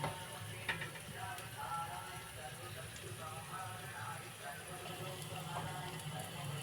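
Cabbage pakoras fry in hot oil with a steady, soft crackling sizzle, fairly quiet and continuous while a voice speaks over it.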